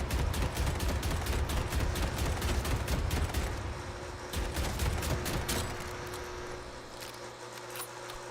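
Rapid bursts of gunfire in the shooter game Deadlock, sharp repeated shots in fast volleys for several seconds, thinning out and fading toward the end.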